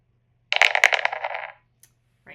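A computer dice game plays its dice-roll effect: a quick burst of clattering rattles lasting about a second, then a couple of faint clicks, with no voices.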